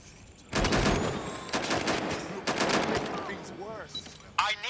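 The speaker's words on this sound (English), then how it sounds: "Suspect is shooting." Gunfire from a shooting suspect in Watch Dogs: Legion, with loud bursts of rapid shots starting abruptly, continuing in dense volleys with brief gaps, and whistling ricochet-like effects and voices near the end.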